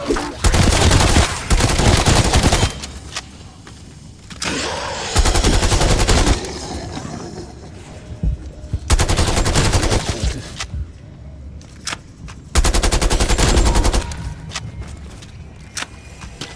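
Video game gunfire in Black Ops Cold War zombies mode: loud, dense automatic bursts in several long stretches, separated by quieter intervals of scattered shots and game noise.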